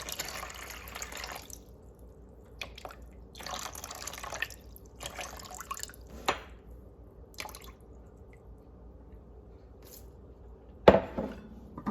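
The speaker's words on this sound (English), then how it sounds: "So here I have empty mixing bowl. I'm gonna add 700 grams of water." Lukewarm water is poured into an empty mixing bowl for sourdough bread dough, coming in several soft splashing bursts with drips and a sharp clunk near the end, fairly quiet and without talk.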